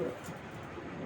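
A Johnson hen pigeon cooing softly in a low, throaty purr, close by, with steady background noise.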